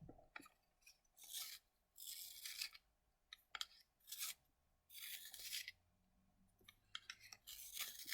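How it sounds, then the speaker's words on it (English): A white charcoal pencil is worked in a hand pencil sharpener, giving repeated bursts of dry rasping and scraping, about a dozen short strokes separated by brief pauses, close and fairly quiet. "I'm just sharpening the white charcoal a bit, because I do need a finer point here"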